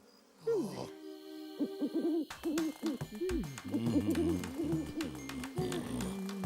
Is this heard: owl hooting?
yes